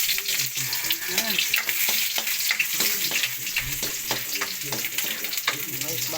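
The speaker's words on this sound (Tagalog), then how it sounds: "Magigisa na tayo ng bawang. Yan, lagyan natin yung luya." Garlic and ginger sizzle and fry steadily in a hot pan, close and continuous, with scattered stirring scrapes and clinks throughout.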